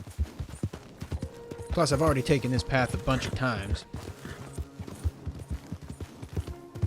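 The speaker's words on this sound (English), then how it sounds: "You've already seen me ride around on my horse enough." Horse hooves clip-clop steadily at a riding pace in Red Dead Redemption 2, a repeating rhythmic beat with someone talking over much of it.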